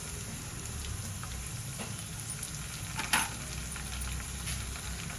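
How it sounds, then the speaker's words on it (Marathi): Curry leaves crackle and sizzle in hot oil with ginger, garlic and green chili, making a steady frying hiss. A single sharper pop bursts out near the middle. No one speaks. "त्यामध्ये आपण कढीपत्ता घालूया."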